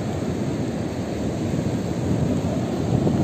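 Light rain falls at Palande beach on the Konkan coast, a steady dense hiss blended with a low rumble of surf and wind, loud and continuous without talking.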